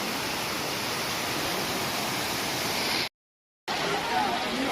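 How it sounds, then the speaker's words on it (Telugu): Tirathgarh waterfall in a Chhattisgarh forest roars as a steady, dense broadband rush. The wash is loud and unbroken apart from a brief complete dropout near the end. "చూడండి ఫ్రెండ్స్ వాటర్ ఫాల్ ఎంత బాగుందో."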